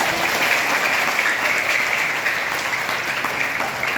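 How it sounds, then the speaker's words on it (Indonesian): A group of madrasa students and families on a pilgrimage visit claps loudly and continuously for four seconds, a thick, even wash of hands with no pauses. "Tepuk tangan."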